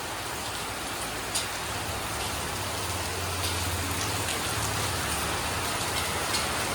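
Heavy rain pours down in a steady, dense hiss, with scattered drops striking nearby surfaces and no voices.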